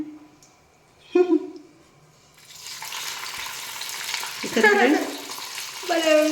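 Garelu (vadas) frying in hot oil, a bubbling sizzle that rises partway through and holds steady, close to the mic. A person talks over it in short bursts.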